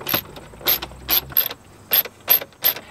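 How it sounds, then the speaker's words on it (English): A tool turns out T20 screws from the trim around a BMW F30 head unit, seven short, close ratcheting clicks in an uneven rhythm, with quiet pauses between them and no talking. "So just go ahead and remove these 2 screws."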